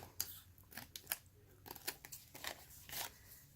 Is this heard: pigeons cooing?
no